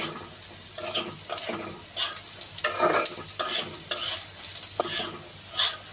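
Pieces of ginger fry in a pan with onion and garlic, giving a steady close sizzle broken by repeated scraping stirs and small clinks. No voices are heard.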